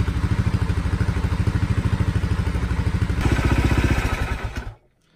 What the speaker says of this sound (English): Run it, warm it up so the oil is warm